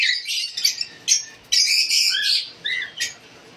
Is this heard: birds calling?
yes